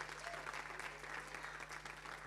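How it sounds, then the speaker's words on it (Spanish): Church congregation applauding steadily, a dense continuous clapping that fills the space at moderate level, with a low steady hum beneath and no clear speech on top. "Si le va a dar el aplauso al Señor, déselo fuerte"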